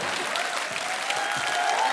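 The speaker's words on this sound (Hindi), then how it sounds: "जोरदार तालियां" A TV show studio audience applauds for a young boy, dense clapping with a crowd murmur that stays loud and even from start to finish, with no voices over it.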